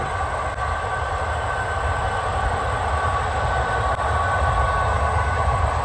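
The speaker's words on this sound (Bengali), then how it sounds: "এখানে রয়েছে একটা রেল লাইন ঠিক আছে এখন ট্রেন যাচ্ছে" A train rumbles past nearby on a rail line beside paddy fields, a steady heavy roar with low rail noise and a faint high whine running throughout.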